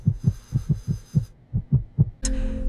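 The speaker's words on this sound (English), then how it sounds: "The monitor showed only 1 heartbeat now" Heartbeat sound effect on a monitor: paired thumping beats in a steady rhythm, roughly nine pulses with a brief gap, ending in a sudden electronic tone.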